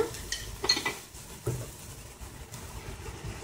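Brussels sprouts and onions stirred in a pan, with a few scattered utensil clinks and scrapes against the pan at close range, fairly quiet, with no talk.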